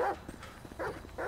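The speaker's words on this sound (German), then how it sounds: "Bello, du sollst nicht andere Hunde besteigen" Dog barks in Grand Theft Auto V, a police canine unit, with several short bursts at the start and end and quieter movement sounds between.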